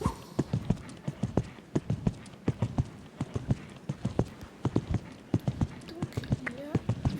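Horse hooves clip-clop in a steady rhythm as the animal moves around a show-jumping course, crisp close footfalls under a person talking.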